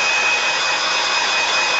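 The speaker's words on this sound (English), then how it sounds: "I've got my my trusty old hairdryer." An old hairdryer blows steadily while drying paint on a pumpkin, giving a loud, even whirring hiss with no pauses and no voices over it.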